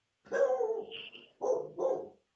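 A dog indoors barks at someone passing outside, giving three close, loud barks, the first drawn out with a growly edge, followed by two shorter sharp ones.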